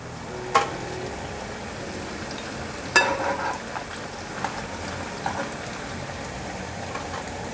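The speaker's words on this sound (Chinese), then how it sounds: "先让它炸定型，可以翻动了，定型了。" Vegan balls of mashed sweet potato mixed with king oyster mushroom deep-fry in hot oil, giving a steady faint sizzling hiss with a few brief louder crackles and stirring bursts, and no talking.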